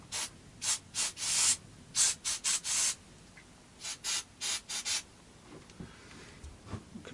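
An aerosol can of contact cleaner is sprayed during pickup work on a Yamaha Pacifica electric guitar. About ten short, close hissing bursts come in quick succession, followed by faint handling noises.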